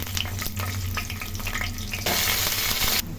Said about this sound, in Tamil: கொஞ்சோண்டு சீரகம் ஆட் பண்ணிக்கோங்க கொஞ்சோண்டு பச்சை மிளகாய்